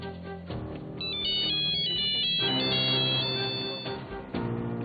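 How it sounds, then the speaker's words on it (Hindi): A phone ringtone plays a bright repeating electronic melody, loud and close, ringing continuously with no voices. "इस दौरान इकबाल का फोन आ गया।"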